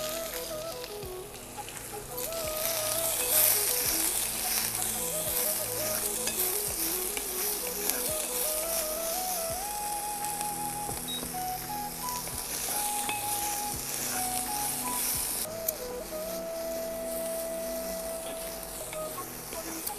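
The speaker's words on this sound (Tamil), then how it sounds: "முதல்ல சீரகம் பொரியவும் இந்த பொடியாக நறுக்கி வச்சுருக்கிற சின்ன வெங்காயத்தை போடணும்" Steady sizzling and crackling of cumin and chopped shallots frying in hot oil, with occasional stirring scrapes, continuous throughout.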